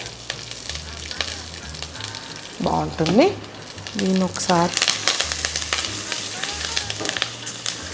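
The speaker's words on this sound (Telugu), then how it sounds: "అలాగే శనగపప్పు కరివేపాకు కొద్దిగా ఇంగు వేసుకుంటే" Chana dal, curry leaves and a pinch of hing sizzle steadily in hot tempering oil for a tomato pachadi, a continuous close frying hiss that carries on under someone speaking in the middle.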